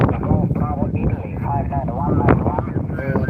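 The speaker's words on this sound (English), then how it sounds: "Oh, that is windy." Wind buffets a microphone outdoors in a steady low rumble, with a voice talking underneath throughout during pedestrian mobile HF radio operation.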